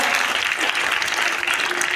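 Schoolchildren at a school children's-parliament event clap for a classmate, producing a loud, dense, continuous patter of many small hands that holds steady throughout.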